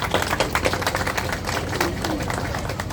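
Many people clap together at an outdoor Pakistan Independence Day flag raising ceremony in Little Pakistan, Brooklyn, a busy, uneven patter of hands mixed with crowd murmur and some nearby talking.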